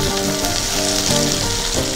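Green chillies fry in a pan for an egg bajji curry, giving a loud, steady sizzle and crackle that runs unbroken with no voices.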